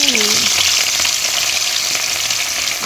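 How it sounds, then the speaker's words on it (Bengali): Loud, steady sizzling of fish frying in hot oil, close up, with a brief squeaky scrape at the start. "এখনও আমি ভয় পাই এই তেলের মধ্যে মাছ দিতে। আহা, ছিটে ছিটে আসে।"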